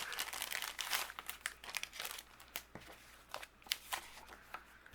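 Paper envelopes for cardmaking are handled and opened with close crinkling, rustling and light tearing in quick, irregular bursts.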